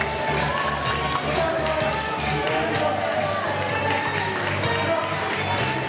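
A street-performance crowd in Covent Garden, London: a dense, steady wash of many voices murmuring and chattering nearby, with scattered cheers and claps rising out of it, while a person talks over the top.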